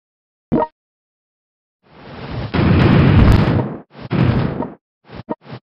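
Naval shells blast coastal artillery in the strategy game World Conqueror 4, with one short thump, then a long rumbling explosion and a further burst, followed by quick closing pops, loud and near with no talk.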